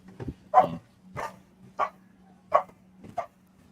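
A dog barks five times in a steady, evenly spaced series, close and fairly loud, over a faint low steady hum in an indoor room.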